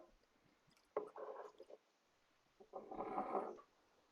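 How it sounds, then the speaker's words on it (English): Johnnie Walker whiskey poured neat into a glass, heard as two soft, close liquid pours a second or so apart, each a gentle gurgling trickle over a faint background hiss. "I'm gonna pour me a little neat pour,"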